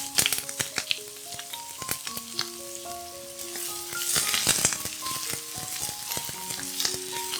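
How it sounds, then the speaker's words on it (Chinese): Napa cabbage stir-frying in hot oil, a steady crackling sizzle punctuated by frequent sharp clicks and scrapes of a spatula against the wok, close and fairly loud with no voices. "倒入适量的油，待油热后放入大白菜炒香"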